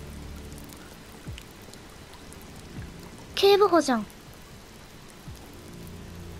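Steady rain falls in the video game Detroit, a soft continuous hiss throughout, with a short spoken line partway through.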